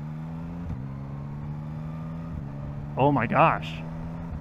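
A 2024 Yamaha MT-09 motorcycle engine hums steadily at a low idle-like pitch, then revs up sharply twice near the end as the quick shifter clicks through gears. A person speaks briefly over it.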